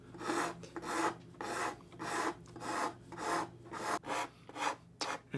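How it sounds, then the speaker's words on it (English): Hand file cutting a chamfer on violin wood, a rhythmic series of about nine raspy strokes, each a broad scraping rush, close and clear with no talking. "And now we're going to file a chamfer on it."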